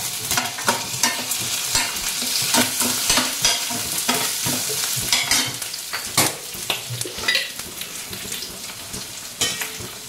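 Chopped onions and curry leaves sizzle and crackle in hot oil in a pan, with steady frying hiss and occasional stirring scrapes throughout, close and moderately loud; no talking.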